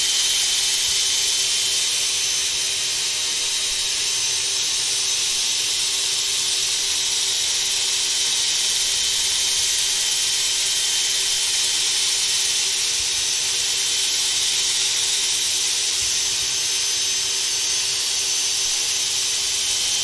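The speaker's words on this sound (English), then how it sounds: "And I'm moving the sanding head fairly slowly." A power sanding head works over a thin-walled wooden bowl turning on a lathe, giving a loud, steady whirring hiss that holds without a break for the whole stretch, with no voices.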